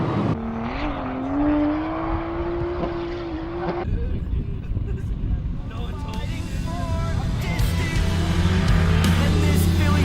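Engine of a Nissan 300ZX junkyard build driving laps, a steady rising tone for several seconds then a shifted, rougher drone with background noise, close and fairly loud, with a voice speaking over it.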